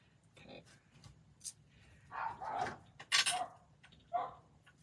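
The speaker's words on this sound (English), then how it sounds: "Sorry for my barking dogs that are spoiled rotten and don't like being outside." Several dogs bark indoors in scattered bursts at moderate loudness, with the clearest barks near the middle and a short yip toward the end.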